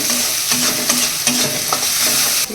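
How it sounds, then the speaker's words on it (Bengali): Spice paste of ground turmeric, coriander powder and salt sizzles in a pan while a utensil scrapes and stirs it in regular strokes, loud and close, with no voices. "মশলাটা একটু কষিয়ে নিয়ে এর মধ্যে দিয়ে দেবো"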